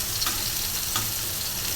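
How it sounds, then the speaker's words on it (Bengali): Fish roe frying in a pan gives a steady, close, continuous sizzle with faint crackles and no talking. "মাছের ডিম আমি এভাবেই ভাজি সব সময়।"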